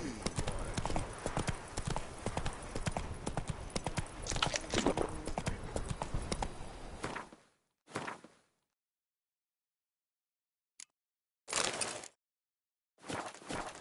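Horse hooves clip-clop in the video game The Witcher 3, a brisk, steady trot for about seven seconds, then a few short bursts of hoofbeats separated by silence.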